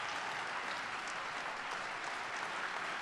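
A crowd at the Illinois General Assembly in Springfield claps steadily in sustained applause during a speech by Barack Obama, dense and loud, with no talking.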